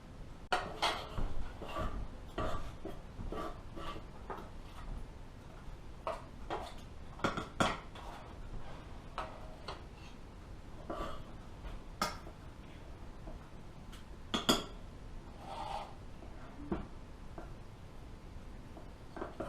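Chunks of hot Armenian halva are pried out of a pan with a utensil, making a string of irregular scrapes, clinks and taps against the metal. The sounds are close but fairly quiet, with no talking.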